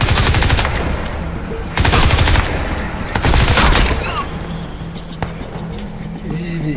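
Rapid automatic turret gunfire in Crysis 2, loud close bursts of fast repeated shots in several volleys, with someone talking over parts of it.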